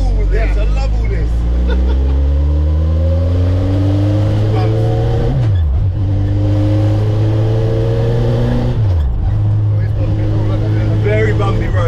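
A tiny van fitted with a big motorbike engine drives down a bumpy road, its loud engine droning close and steady and rising through gear changes twice, with people talking over it.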